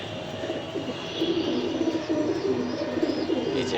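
Racing pigeons coo inside a loft, soft repeated throaty coos from several birds overlapping at moderate volume, with steady low ambient background and no talking.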